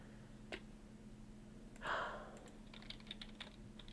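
Quiet computer keyboard typing in a home drawing setup, a few sparse, faint key taps with a slightly louder cluster of clicks midway, otherwise near silence.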